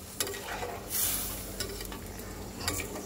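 Fried tengra fish is stirred into a thin, simmering curry in a pot, giving faint, intermittent spoon scrapes over a low bubbling hiss, close but quiet.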